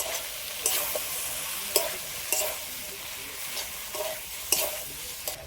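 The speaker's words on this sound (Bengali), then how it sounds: "এবার আমি দিয়ে দেবো মশলা মাখিয়ে রাখা সবিনটা এবার সব একসাথে ভালো করে কষিয়ে নেব" Spiced soya chunks stir-fry in a pan with a soft continuous sizzle, broken by several sharp spatula clacks and scrapes spaced a second or so apart, close and without talk.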